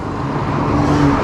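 A BMW car going by on a narrow French Alpine mountain pass, a steady broadband engine and road rumble heard from a motorcycle, fairly loud and continuous, with no talk.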